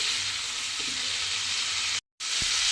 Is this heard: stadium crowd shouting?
no